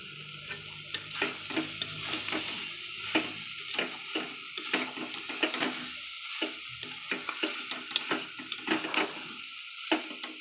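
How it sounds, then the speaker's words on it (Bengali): Jackfruit curry with potatoes and spices being stir-fried in a pan, with steady sizzling under repeated scraping and stirring strokes throughout, close and moderately loud. "দেখো আমার এঁচোড়ের তরকারি মশলার সঙ্গে কষা হয়ে গেছে"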